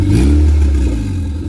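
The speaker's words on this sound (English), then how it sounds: "Give her a little rev" A turbocharged Honda engine revs in a garageless build, a loud, close mechanical roar that swells briefly and then eases off, with a whirring, clattery edge and no talking.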